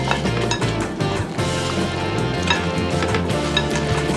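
Raw meat and peppers being mixed together in a bowl for a roasted rack of lamb, giving steady close clinks and soft squelching stirs that run continuously without any talk.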